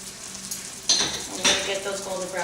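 Egg rolls frying in a pan of hot oil, a steady broadband sizzle with two louder crackling surges as more rolls go in, and faint voices in the background.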